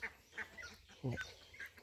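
Ducks quacking at a backyard pond, a few short nasal honks and quacks scattered over about two seconds, one louder and closer call in the middle, faint and set against quiet outdoor background.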